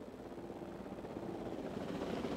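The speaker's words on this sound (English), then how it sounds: "We have a helicopter standing by, and they'll attempt to tranquilize the animal from the air" A helicopter stands by over a park in the dinosaur management game Jurassic World Evolution 2, its rotor and engine making a steady, moderately faint droning whir with no voices.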